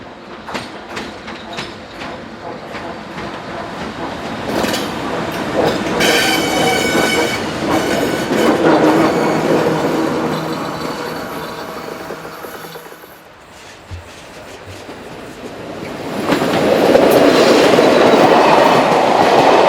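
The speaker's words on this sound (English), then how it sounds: "broad gauge double locomotive number 125824 heads east" A broad gauge double locomotive rolls east through Slivnik station, its wheels clattering steadily over the rails with a rising roar and a brief lull before the cars rumble on loudly, close by and without voices.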